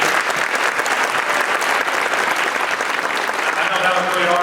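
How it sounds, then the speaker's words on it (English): A crowd at an evening gym naming dedication applauds four women with a steady, dense round of clapping that holds for the whole stretch, with a voice starting to speak near the end. "give one more round of applause for these 4 ladies over here"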